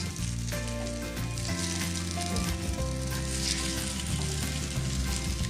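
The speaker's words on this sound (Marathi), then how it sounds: "ती पण आता आपण फ्राय करून घेऊ अशा तऱ्हेने आपल्या घरी आज होत आहे मिक्स फिश फ्राय" Mixed Konkani fish, bangda and saundala, frying in a pan with steady loud sizzling and crackling, overlaid by sustained tonal background music; no talk.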